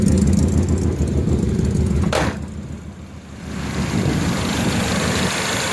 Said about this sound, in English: I don't know if you can hear the injectors running, hear them ticking a little bit